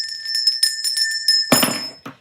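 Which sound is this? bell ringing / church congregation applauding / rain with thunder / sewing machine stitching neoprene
bell ringing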